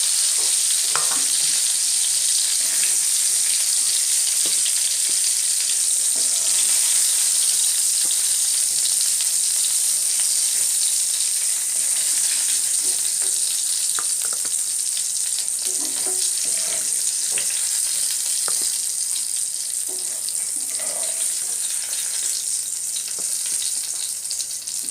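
Pointed gourds fry in oil with a loud, unbroken crackling sizzle at close range, occasional soft scrapes of turning pieces, and no speech throughout.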